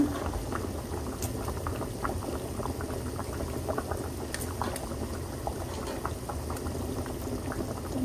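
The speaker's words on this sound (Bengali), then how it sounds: "এখানে সিমের বীজটা রান্না করে ফেলছি।" Bean seeds boiling in a pot, giving a continuous bubbling roil with dense small pops at an even, moderately loud level throughout.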